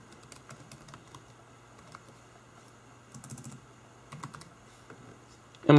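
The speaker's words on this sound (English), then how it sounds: "And I'm just going to type in my username." Username being typed on a computer keyboard, scattered light key taps in short bursts with pauses between, close and fairly quiet, ending in a louder clack.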